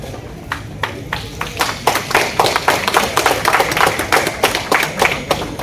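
An audience at a Tamil devotional Thirumanthiram recitation festival at SRM University claps in a steady, fairly brisk patter that swells and keeps going, close and lively with a room murmur beneath.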